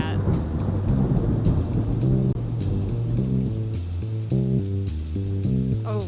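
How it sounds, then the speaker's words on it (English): Rain and rolling thunder as a sound effect inside a music remix track, a steady hiss of rainfall with thunder rumbles beneath repeating synth notes and bass, loud and continuous throughout. "I liked this one because of the rain effect."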